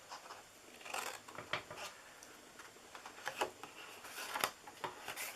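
Scissors snipping through a paper card treat box, a series of short crisp cuts at close range with faint rustling between snips and no talking.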